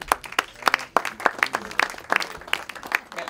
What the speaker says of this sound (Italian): Un applauso a Terence Hill, dai